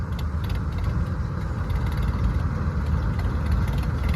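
A farm tractor with failing brakes, working at a rice harvest, runs with a loud, close, steady low engine rumble throughout, no voices heard.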